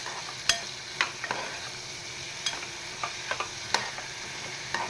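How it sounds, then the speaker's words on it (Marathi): Capsicum is sautéed in hot oil with tempering, a soft steady sizzle broken by sharp spatula clinks against the pan at irregular intervals, close and alone without talk. "छानपैकी असं मस्त शिमला मिरची परतवून घेऊया त्या तेलामध्ये आणि फोडणीमध्ये."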